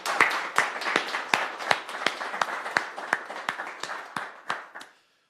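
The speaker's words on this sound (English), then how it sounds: "let's have one more round of applause for this amazing announcement" An audience at a non-profit announcement event claps in a loose round of applause, with sharp distinct claps spaced about every third of a second, fairly close and steady, fading out after about five seconds.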